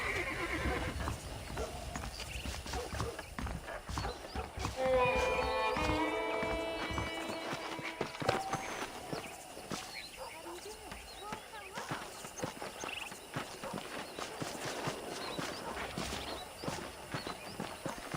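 Horse hooves clip-clop at a walking pace in the Western video game Red Dead Redemption, mixed with horse whinnies and under game dialogue and background sound.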